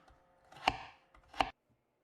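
A kitchen knife chops carrots on a cutting board, giving two distinct, sharp chopping impacts about three quarters of a second apart over faint background noise, with no talk.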